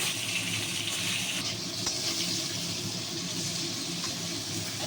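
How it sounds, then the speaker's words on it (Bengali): Cauliflower florets fry lightly in fish oil for a winter-vegetable curry, giving a continuous, even hiss and sputter close by at moderate loudness, with no voices. "এই দেখুন বন্ধুরা কপিটা আমি ভেজে নিচ্ছি"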